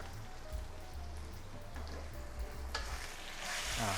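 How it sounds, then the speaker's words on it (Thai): Pork belly stir-fries in a pan with shiitake mushrooms and sweet dark soy sauce, giving a steady soft sizzle that swells louder toward the end, with no talking. "ผัดนะครับ ทุกอย่างให้เข้ากัน"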